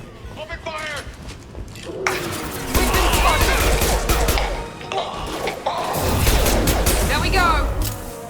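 Gunfire and impacts from the Mass Effect 2 video game, bursts of shots and crashing blasts in a dense combat mix with heavy low booms around the middle and end, and voices talking over the fighting.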